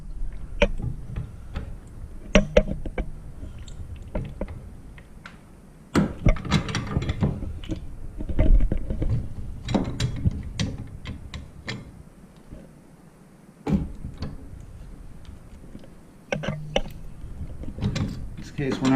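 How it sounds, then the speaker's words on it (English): Channel locks work a nut on a toilet valve, making intermittent metallic clicks, scrapes and knocks at close range amid handling noise, with quiet gaps between bursts. "Now I'm going to take a pair of channel locks, alright? And we're going to attempt to tighten this nut up."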